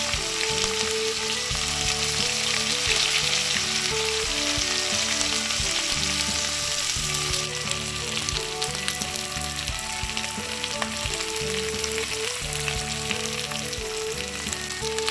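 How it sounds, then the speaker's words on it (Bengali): Chopped onion frying in hot oil in a kadai with bay leaf and dried chillies, for a rustic chicken curry: a loud, steady, close sizzle that holds through the whole stretch, with faint tonal hum underneath. "এবার পেঁয়াজটা হালকা সোনালি হওয়া পর্যন্ত ভাজবো"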